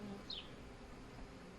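A new honeybee swarm hums faintly and steadily around a hive set on stacked deep boxes, a soft continuous buzz with no voices over it.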